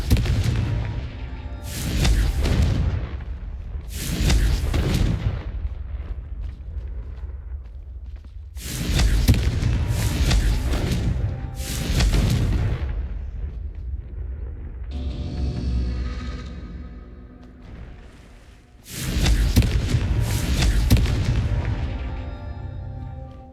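Confringo explosion spells in the video game Hogwarts Legacy, heard as a series of loud booming blasts, each followed by a rumbling decay, repeating roughly every few seconds with no talking.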